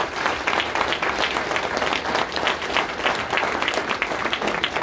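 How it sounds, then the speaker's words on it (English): Sustained audience applause at a political campaign kickoff event, steady and dense clapping from a large crowd throughout, with no speech over it. "So I want to give them a round of applause for helping me."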